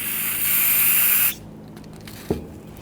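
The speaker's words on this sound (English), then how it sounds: "you want to go ahead and spray some solvent into these ports" Solvent sprays in a loud, steady hiss into the slide pin ports of a Ford Taurus rear brake caliper, cutting off after about a second, followed by a single faint knock.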